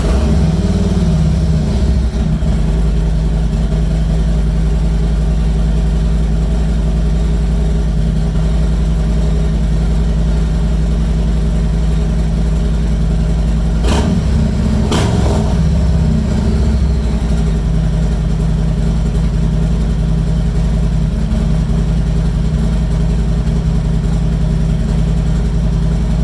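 A 2020 Harley-Davidson Street Glide engine idles loud and close after an oil change, a steady low rumbling throb held throughout with a brief mechanical clatter partway through.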